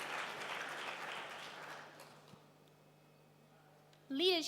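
Audience applause for the first speaker at a university debate final: a burst of crowd clapping that fades over about two seconds into quiet room hum, followed by a voice starting to speak.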